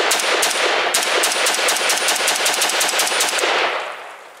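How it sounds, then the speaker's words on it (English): Rapid automatic fire from a MARCOLMAR CETME-L rifle at a shooting range: a long, loud burst of closely spaced shots in a steady rhythm that cuts off abruptly and fades out at the end. "MARCOLMAR, CETME-L, first shots."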